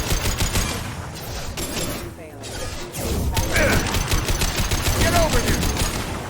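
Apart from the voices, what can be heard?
gunfire in the video game Mass Effect 2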